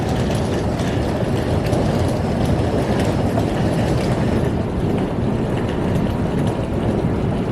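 Steady, loud rumble of an Amtrak Horizon fleet passenger train in motion between Vancouver and Seattle, with a continuous roar and faint rhythmic clatter, no voices.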